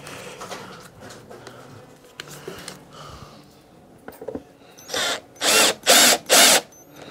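Near the end, a power drill with a screwdriver bit gives four short bursts in a row driving screws into a picture frame, with quieter handling and clatter before them.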